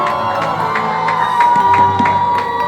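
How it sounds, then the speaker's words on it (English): Crowd clapping and cheering for the Nigerian comedian Alibaba, loud and close, with whoops and shouts rising over a dense bed of applause. "please clap for Alibaba, celebrate him"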